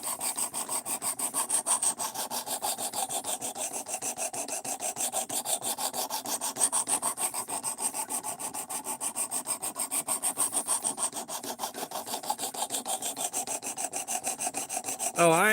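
Sandpaper of 220 grit is rubbed back and forth in fast, even strokes, making a continuous close rasping scrub that stays loud and rhythmic throughout.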